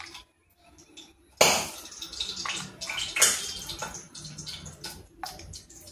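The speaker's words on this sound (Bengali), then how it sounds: "দুধ দিয়ে দিয়েছি।" Milk pours into a fish masala mix of chili, turmeric and cumin powder with a sudden liquid splash and gurgle, followed by a few more wet sloshes.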